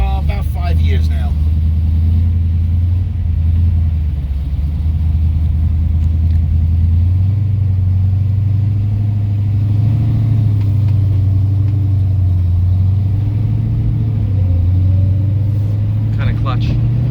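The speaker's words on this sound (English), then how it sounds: "You can hear that tranny. Love that whine." A 1972 Chevrolet Nova with a 383 stroker and four-speed transmission drives along, its engine rumbling loudly and steadily with a droning transmission whine under it and slight shifts in pitch as the car moves.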